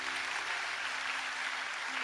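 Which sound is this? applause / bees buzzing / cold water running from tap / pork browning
applause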